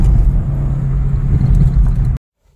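Inside a Honda City sedan pulling hard in second gear, a steady, loud engine drone with road roar holds for about two seconds, then cuts off abruptly to near silence.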